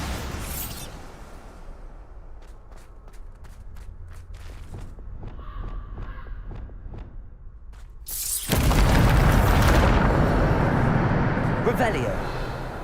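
A Bombarda blasting spell from the video game Hogwarts Legacy erupts into a loud, sustained booming explosion after a stretch of quieter footsteps and clicks, with a voice calling out the spell just beforehand.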